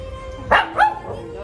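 A Shih Tzu gives two quick, sharp, high barks close by, one right after the other, against a quiet indoor background.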